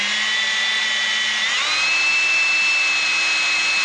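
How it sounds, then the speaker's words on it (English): A power drill spins a hole saw through a panel to mount a gauge, a loud steady whine that shifts pitch slightly partway as the cutter bites, continuous and close with no talking. "Well, the hole is drilled."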